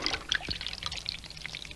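Water sound effect of someone sliding down into water, a soft pour and trickle of splashing liquid with small bright droplets, fairly quiet throughout.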